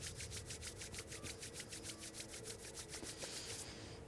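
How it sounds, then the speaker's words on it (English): Palms rub briskly together in a yoga session, a fast regular run of close, soft swishing strokes that carries on for about four seconds before easing off. "So let's just give one more rub of our hands."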